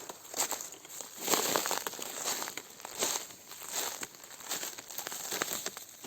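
Plastic bag crinkles and rustles close up in irregular bursts outdoors while foraging for mushrooms, with crackling handling noise throughout and no talking.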